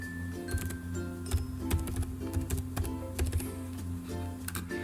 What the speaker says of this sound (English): We only type.